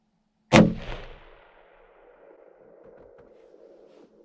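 Single rifle shot fired at a doe during a deer hunt, a sharp loud crack that rolls into a long fading echo across open country, followed by quiet rustling.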